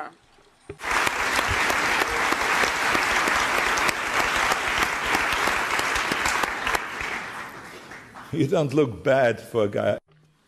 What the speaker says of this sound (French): C'est son anniversaire aujourd'hui, je crois qu'on peut l'applaudir